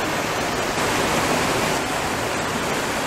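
Water flows and rushes in a steady, loud, unbroken wash of noise, close by and without any voices.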